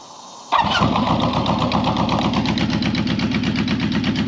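A 1972 Honda CB350four motorcycle, not run in over a year, cranks and fires up, then settles into a loud, close, steady idle with a rapid rhythmic putter from the four-cylinder engine.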